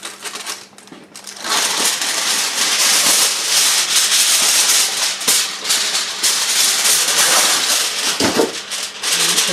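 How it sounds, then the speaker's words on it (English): Aluminum foil is crinkled and pressed over a casserole dish of yellow summer squash, a continuous loud rustling and crackling close up, with a few sharper crinkles, no talking. "We're going to put some aluminum foil right on top."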